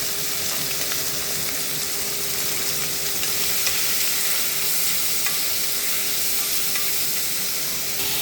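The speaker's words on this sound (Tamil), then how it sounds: "வெங்காயம், தக்காளி லைட்டாக சிம்மில் வச்சு வதக்கிக்கலாம்." Chopped onion and tomato sauté in a pan over a low flame, giving a steady, even sizzle and hiss that runs unbroken throughout with no voices.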